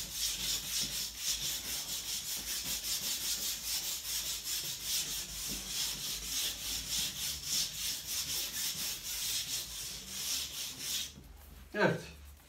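A brush is scrubbed quickly over a styrofoam stone wall covering to texture it, making continuous close scratchy strokes in a steady rhythm, ending with a brief bump.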